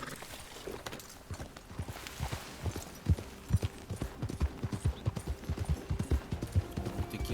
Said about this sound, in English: Esse cavalo.